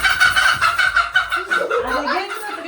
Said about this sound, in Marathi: वरती येऊन बसली ना कोंबडी.